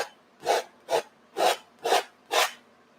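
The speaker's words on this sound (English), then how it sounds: "Scrape out as much of this paint as you can up here." Tool scraping paint out, five evenly spaced rasping strokes about half a second apart, close and distinct against a quiet background.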